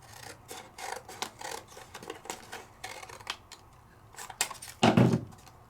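Paper trimmed along one side makes a series of close, crisp cutting snips and scrapes, irregular in rhythm, ending in a louder rustling cut, with no talk.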